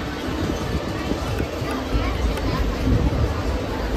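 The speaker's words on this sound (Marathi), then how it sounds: "आपण ट्रेनमध्ये बसलो आणि आपण निघालोय" Rumbling interior noise of a moving train, a steady low rolling roar with a faint high whine throughout, with people chattering in the carriage.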